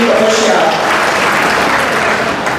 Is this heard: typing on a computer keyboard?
no